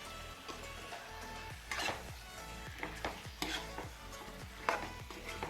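A spoon stirs pepper chicken masala gravy in a pan, making repeated scraping strokes in an uneven rhythm over a soft, steady sizzle, heard close and fairly quiet with no talking.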